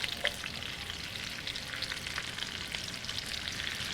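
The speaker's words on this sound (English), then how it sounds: "Get to the butter and the fat, I'm going to add some onion," Sliced onion fries in butter and pork fat, giving a close, steady crackling sizzle with fine popping and no voices throughout.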